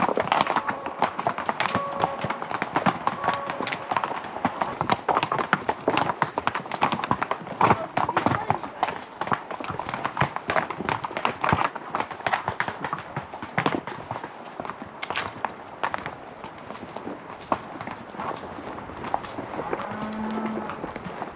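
Young pack horses walk with a steady clip-clop of hooves on a backcountry trail, many overlapping footfalls continuous and close throughout, with some talk mixed in.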